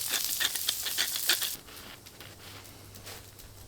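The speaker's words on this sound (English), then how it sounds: "All right, we got our griddle on low. Add some butter. Nice temperature right there. Slowly start cooking these onions." Onions cook in butter on a low griddle with a bright, crackling sizzle and a few stirring scrapes, loud for the first second and a half before dropping to a faint, soft hiss.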